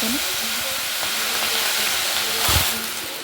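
Curry leaves and green chillies frying in hot oil, a loud, continuous close hiss and sizzle with one brief stronger flare near the end and no talking.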